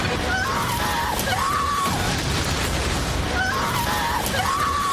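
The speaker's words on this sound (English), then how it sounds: "you will hear the woman screaming in the background is a loop" A woman's screams in the background of a movie trailer, a looped wailing cry that repeats twice with the same rising and falling pattern over a dense, noisy soundtrack bed.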